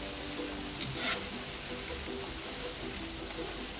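French fries frying in hot oil, turning golden brown, with a soft, continuous crackling sizzle and a couple of brief clinks near the start.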